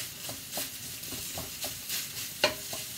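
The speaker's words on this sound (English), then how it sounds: "get your pork browned off." Pork browns in a wok for a pad thai, the gentle sizzle broken by regular spatula stirs and scrapes, ending in a couple of sharper knocks of metal on the pan, with nobody speaking.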